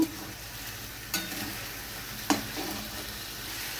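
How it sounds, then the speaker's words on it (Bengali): Turmeric and chili powder spices sizzling and frying in a pan, a steady close hiss with a few sharp stirring clinks, no voices. "মশলাটা আমি ভালোভাবে কষিয়ে নেব"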